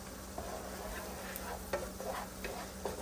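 A spoon stirs ingredients in a hot pot for a beef roast with potatoes and carrots, giving soft scraping strokes over a steady sizzle at close range, with no talking.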